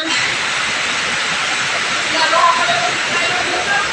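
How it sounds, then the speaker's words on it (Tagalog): Very heavy rain pouring down with water coming inside, a dense, loud, unbroken roar of rushing water that stays constant throughout, with faint voices underneath. "Sobrang lakas ng ulan, no?"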